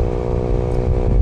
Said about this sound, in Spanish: qué tal se ve esta motocicleta rodando